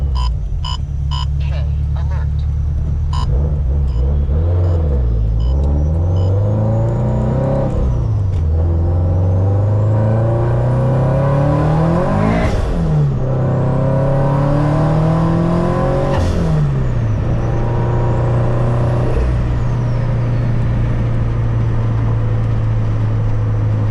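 Turbocharged FRS sports car tuned to about 420 wheel horsepower, driven hard on back roads, engine revving up and down through repeated gear changes, loud and close from inside the cabin.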